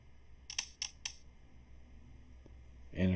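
Dice-roll effect from the Dyson Dungeons app on an iPad, three quick sharp clicky rattles close together followed by a brighter clatter at the end, clear and fairly quiet with no talk.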